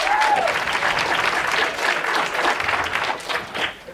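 An audience bursts into sustained applause in answer to a show-of-hands question about Robert Picton during a stand-up set, a dense, steady wash of clapping hands that tapers near the end, with a brief whistle early on.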